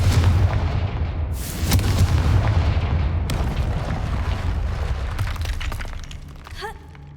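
Loud blasting-spell explosions and booms from the Hogwarts Legacy video game, several heavy bursts with crackling debris over a few seconds that settle toward the end.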